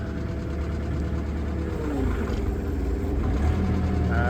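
A brand new Cat 305E mini excavator engine idles steadily nearby, a continuous diesel drone with a slight rise in pitch near the end and no voices over it.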